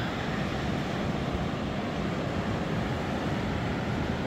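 Steady, continuous roar of sea waves washing on a beach near Naples, with wind rushing over the microphone and no voices.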